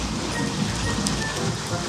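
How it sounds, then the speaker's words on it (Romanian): Hail pelting down during a storm, a dense steady patter of ice hitting surfaces close by, with no clear pauses. "Avem grindină!"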